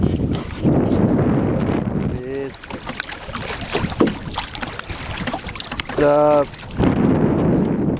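A small proa sailboat picks up speed in a bay, with rushing wind and water washing loudly around it and someone talking in short bursts over the noise.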